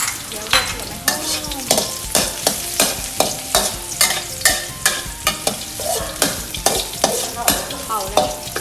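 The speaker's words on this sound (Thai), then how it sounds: "ตั้งน้ำมันให้ร้อน พอน้ำมันร้อนเราก็ ใส่หัวเทียมที่เราทับไว้นะคะ" Crushed garlic fries in hot oil in a pan for Thai stir-fried glass noodles with prawns, a steady close sizzle broken by rhythmic scraping strokes of a spatula, heard alone without talking.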